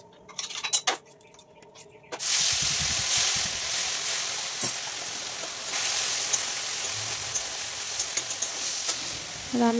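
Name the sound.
frying in oil in a kadai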